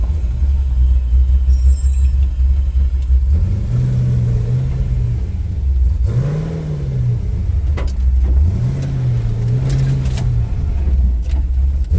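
A heavy pickup truck engine rumbles close by, its pitch climbing and falling in a few repeated revs over a deep steady idle.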